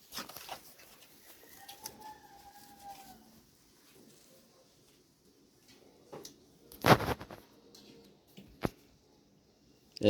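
Soft coos from a Pakistani pigeon come and go in a quiet space, broken by a few sharp bumps and rustles of handling nearby.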